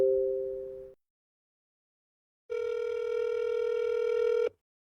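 A telephone line tone while a call is being placed to a company's investor relations contact: a brief tone, about two seconds of silence, then a longer steady buzzy tone, all alone without voices.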